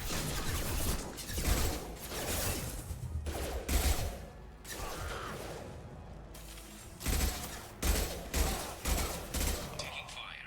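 Mass Effect 2 combat gunfire, repeated bursts and sharp reports in irregular clusters near and far, mixed with impacts and whooshes, while voices speak over the fighting.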